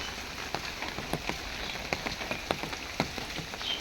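Rain falling in a village on a wet day: a faint, constant patter on surfaces with scattered sharper drips and drops landing nearby.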